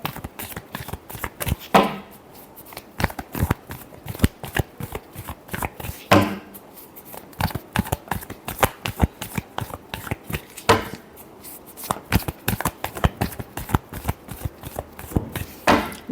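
Tarot cards shuffled by hand during a reading, a long run of crisp, rapid riffling slaps in close repeated bursts, with no voice.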